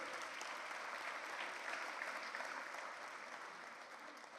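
Steady, dense applause from a conference audience at a UN General Assembly anniversary event, sustained throughout and heard from a distance at low level, with no voices above it.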